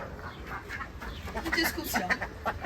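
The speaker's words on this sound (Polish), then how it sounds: "Uciszymy kaczki." Several ducks call at once in a busy, overlapping chatter of quacks and clucks in a garden, with a voice speaking faintly underneath.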